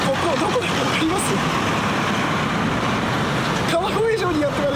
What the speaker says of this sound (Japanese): 車の音とかもすごい入ってると思うんですけども